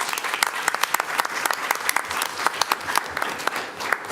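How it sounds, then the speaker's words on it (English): A board meeting audience applauds, steady scattered clapping from a modest crowd, close and fairly loud, with sharp individual claps standing out throughout. "Big round of applause."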